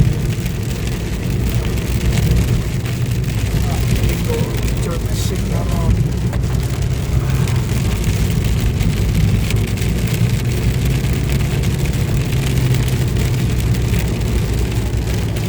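Heavy rain pouring steadily with gusting wind roaring during a severe thunderstorm on a highway, as if heard from inside a vehicle; someone speaks briefly over it.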